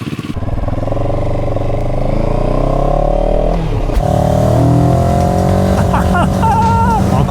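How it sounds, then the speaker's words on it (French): A CFMOTO 700 CL-X Sport motorcycle engine drones steadily while riding, its pitch rising and falling through gear changes, loud and close throughout. "On est au guidon de cette fabuleuse CF Moto 700 CLX Sport."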